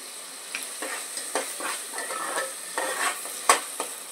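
Masala frying in oil for a spicy crab curry, a steady close sizzle broken by stirring scrapes and light taps against the pan.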